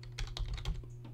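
Quick keystrokes on a computer keyboard as a short file name is typed, about five or six light clicks in a fast, slightly uneven burst, close and clear over a faint low hum.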